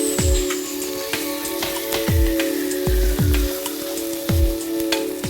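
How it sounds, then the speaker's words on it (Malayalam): Tomatoes sizzle in hot oil for sambar: a steady loud frying hiss with repeated sharp pops and crackles, near and continuous, with no voices. "തക്കാളി ചേർക്കുന്നുണ്ട്."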